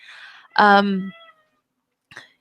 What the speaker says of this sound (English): kitten's very loud, sorry